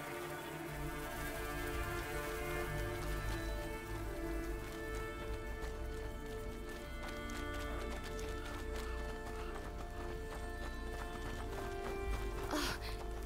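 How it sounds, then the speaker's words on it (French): Horse in the medieval video game A Plague Tale: Innocence, steady clip-clop of hooves with an occasional whinny over a constant rainy ambient bed, moderately loud and continuous throughout. "qu'est-ce qu'il a, ce cheval?"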